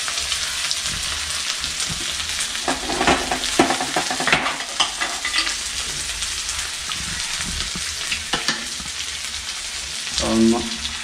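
Potatoes fry in a pan, a steady close sizzle broken by scraping and clattering bursts as they are stirred, with a brief louder scrape near the end.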